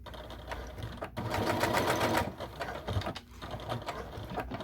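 A sewing machine stitches a fabric strip for a fanny pack belt, its fast rattling needle buzz rising and falling in bursts with brief pauses, close and fairly quiet, with no talk.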